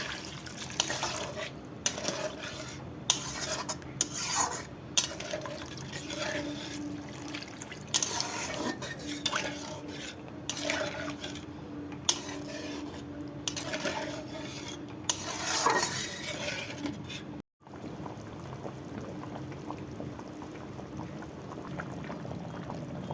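Water is poured into a pan of frying spices while a Bengali fish curry cooks, giving a splashing, sizzling wash with clinks of utensils against the pot throughout.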